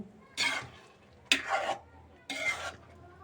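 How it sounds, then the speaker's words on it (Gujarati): Boiled egg curry being stirred in a pot with a spoon: three separate short scraping strokes evenly spaced, close and fairly soft, with faint sizzling between them. "અને હવે આપણે આને હલાવી નાખશું"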